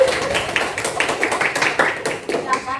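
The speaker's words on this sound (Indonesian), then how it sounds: "Berikan tepuk tangan untuk Mbak Cindy." A small classroom group claps for a student who has just told a story, producing uneven, close bursts of hand claps in a loose rhythm that trails off near the end.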